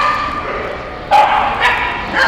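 Puppies at a dog show barking and yipping nearby, three quick high-pitched barks in the second half over a busy indoor background with some voices.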